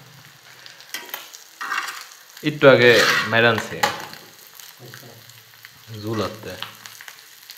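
Fresh puti fish frying in a pan, a bright sizzle with utensil clatter and stirring, swelling loudly in the middle and returning later, while people talk around it.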